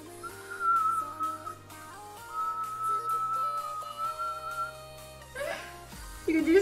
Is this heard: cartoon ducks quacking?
no